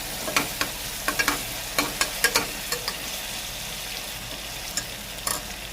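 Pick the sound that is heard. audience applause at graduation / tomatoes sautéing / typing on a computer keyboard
tomatoes sautéing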